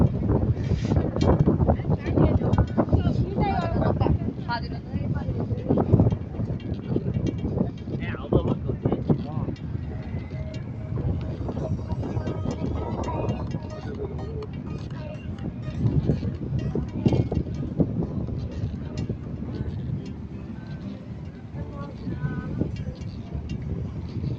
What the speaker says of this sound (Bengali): সুন্দর বাতাস